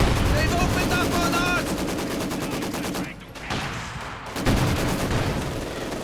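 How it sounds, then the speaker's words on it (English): Sustained rapid machine gun fire from a Company of Heroes 2 battle, loud and continuous with rattling bursts, a brief lull, then more gunfire and distant explosions, with a commentator talking over it. "Officer here being held up by the machine gun."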